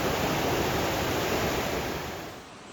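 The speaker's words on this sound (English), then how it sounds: "Quilcene River, cascading down." Quilcene River cascading down through a mossy forest in the Olympic Mountains, a steady broadband rush of water heard close, easing slightly in the final moments, with no voices.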